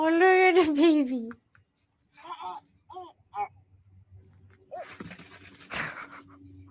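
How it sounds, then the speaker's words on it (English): A dog pants and moves around nearby, with quick breathy puffs, a high whine at the start and some shuffling, while a person makes sounds in the background. "Look how intense that dog is."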